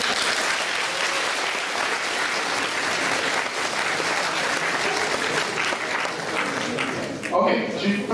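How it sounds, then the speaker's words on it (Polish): An audience at a lecture on tying a tie gives a volunteer a full, steady round of clapping that fills the room, then it tapers off at the end as a voice begins speaking. "Brawa dla koleżanki"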